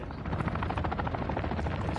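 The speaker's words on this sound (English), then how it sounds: "Somebody flying that plane" Aircraft engine roaring close by in Warzone 2.0, a loud, steady, throbbing drone with rapid pulsing that fills the whole moment.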